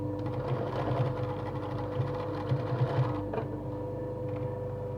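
Sewing machine running steadily as it stitches a lined pouch with a zip and inner pocket, a continuous close whirring hum with small rhythmic bumps, no talking.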